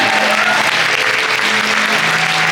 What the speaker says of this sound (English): Let's give a big round of applause for our amazing cast, dancers, and Artindo team.